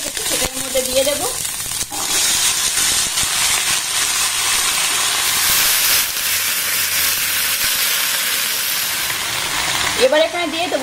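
Cut okra tipped into a pan of frying onions sets off a loud, steady sizzle that hisses on throughout, with brief stirring and clatter near the start and end.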